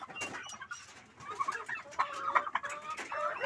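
Heritage chickens cluck and murmur close by as they are fed, a busy overlapping flock with short calls rising and falling over a faint farmyard background.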